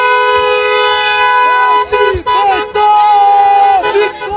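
Car horns blare nonstop in a crowded Brussels street as Congolese diaspora supporters welcome their president, loud layered honks and toots with brief dips and cheering voices.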